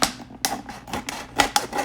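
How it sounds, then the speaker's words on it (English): Scissors snipping through a clean plastic bottle, a short series of crisp close clicks and crunches in an uneven rhythm, heard on their own. "I'm going to use my scissors to finish the rest."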